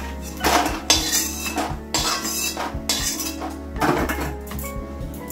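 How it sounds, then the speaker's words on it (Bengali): Fried lentil dumplings (dal bori) scooped from a wok into a bowl in a home kitchen, with repeated metal clinks and scrapes of a spoon against cookware over a steady low hum, close and moderately loud. "এখন আমি একটা পাত্রে নামিয়ে নেব।"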